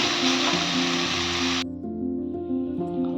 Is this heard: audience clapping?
no